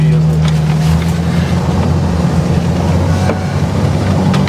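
All-terrain tracked vehicle driving through the taiga in winter on the way to ice fishing, a loud steady engine drone with grinding track rumble throughout, close and continuous.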